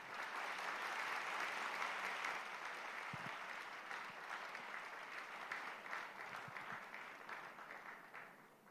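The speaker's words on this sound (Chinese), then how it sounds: "我们再给评审团一个热烈的掌声" An audience at a national collegiate debate final in Malaysia applauds the judging panel, a sustained wash of clapping from a large hall that slowly tapers without fading out.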